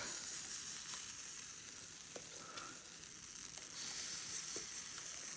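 Mango-flavored aebleskiver batter cooks in a pan. A soft, steady sizzle and frying crackle hold throughout, fairly quiet and with no talking.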